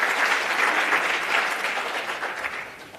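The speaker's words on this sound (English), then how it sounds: "A round of applause for Flavia as she takes over." A conference audience applauds steadily, dense clapping that holds for a few seconds and then begins to taper off.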